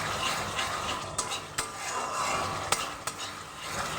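Masala for a potato curry (aloo dum) fries in oil in a pan, a steady close sizzle broken by a few sharp clinks of a spoon stirring against the pot.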